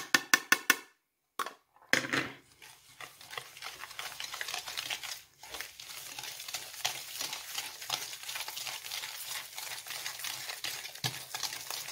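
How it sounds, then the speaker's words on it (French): Softened butter and egg being stirred together in a salad bowl, a close rhythmic scraping and tapping of a utensil against the bowl with steady repeated strokes, after a few sharp clinks at the start. "Dans le saladier, je mélange le beurre pommade avec l'œuf."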